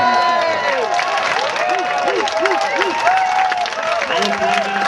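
An audience at a town hall meeting claps and cheers in a continuous burst at moderate volume, with voices mixed into the applause throughout.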